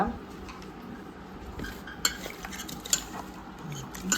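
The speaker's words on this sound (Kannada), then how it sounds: "ಚೆನ್ನಾಗಿ ಕಲಸಿ ಚೆನ್ನಾಗಿ ಒಮ್ಮೆ ಕಲಿಸ್ಬೇಕು." Bun dough ingredients and sugar being mixed by hand in a bowl, giving soft scraping and stirring with a few sharper clinks of utensil on the bowl, fairly quiet against light room noise.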